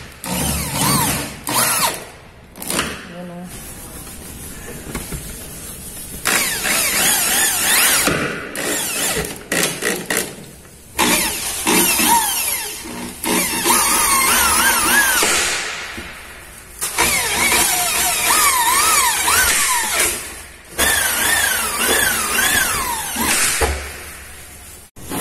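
A power drill drives screws into a phenolic board slab ceiling, sounding as a series of loud, close whirring bursts that rise and stop in an uneven rhythm, separated by short pauses.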